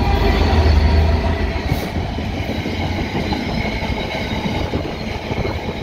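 A train rumbles past close by, a loud, steady roar of wheels and rail clatter that fills the whole stretch with no talking.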